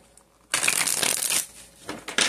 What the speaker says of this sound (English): Let's shuffle like two more times for Virgo.